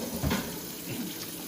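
Salted zucchini being rinsed under a running kitchen tap, a steady close wash of water splashing into a sink with a brief louder gush near the start, no voices.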